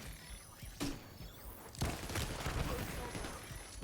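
Gunfire in the video game The Division 2, with a sharp shot near the start and a louder burst around the middle, followed by steady crackling combat noise from behind the player while a voice talks over it.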